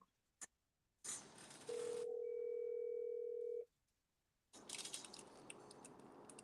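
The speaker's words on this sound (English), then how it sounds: "Media Room 360 just called into the show" A telephone line during an incoming call on a live talk show: a steady electronic tone holds for about two seconds, bracketed by rustling handling noise before and after, with no speech.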